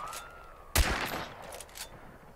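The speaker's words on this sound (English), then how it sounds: "Why are you shooting?" Gunfire from a hunting video game: one sharp, loud shot bursts out after a quiet stretch, then its ringing tail fades under a few softer crackles.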